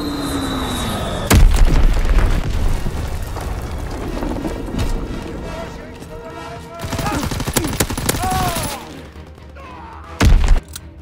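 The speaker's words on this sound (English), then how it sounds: "Quick bombing mission ready." A bombing run in the Call of Duty: WWII multiplayer game brings loud booming explosions and a gunfire fusillade, with sharp blasts near the start and end and rumbling impacts between them.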